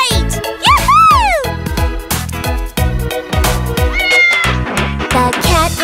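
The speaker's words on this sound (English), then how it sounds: "It's a cat." A cartoon cat meows in a children's rhyme, with several loud, close, sliding meows over bouncy, bright music.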